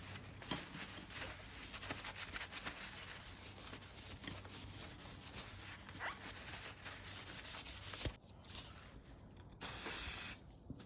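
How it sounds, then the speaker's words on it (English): A vintage '80s Muddy Fox Courier Comp mountain bike is cleaned with WD-40, with rubbing and wiping noises throughout and a short, sharp burst of aerosol spray near the end. "a good old clean up with WD-40 to get the lifetime of grime off it"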